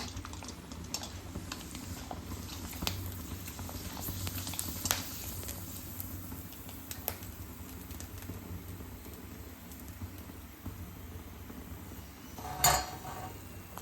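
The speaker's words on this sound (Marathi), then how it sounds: "दुसरी पण चकली आपण अशाच पद्धतीने तळून घेणार आहे." Sabudana and potato chakli frying in hot oil, a steady close sizzle scattered with quick crackling pops throughout, with one louder burst near the end and no talking.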